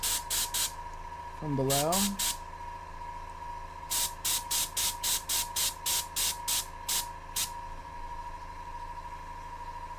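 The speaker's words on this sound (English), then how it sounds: "I'm going to spray a little bit into his eyes" Airbrush spraying primer comes in a quick series of short hissing bursts, a few at the start and a steady run of about ten near the end, close up, with a person talking in between.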